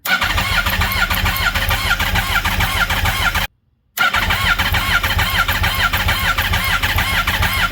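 A 200-horsepower golf cart engine cranks loudly and steadily, its rapid starter churn running continuously, cutting out for a brief gap and then resuming, with no one talking over it.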